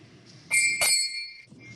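Time-is-up bell at an Irvine city council candidates forum: two quick bright metallic dings in succession, fairly loud and close, with a ringing tone that decays over about a second before quiet room noise returns.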